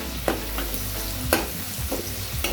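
Coriander leaves frying with chopped onion and tomato for a spicy Marathi egg curry, a continuous sizzle broken by several sharp spatula clacks and scrapes against the pan, with no voices.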